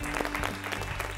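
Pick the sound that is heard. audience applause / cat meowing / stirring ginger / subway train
audience applause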